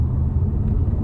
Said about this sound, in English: I really love that sort of throttle body sound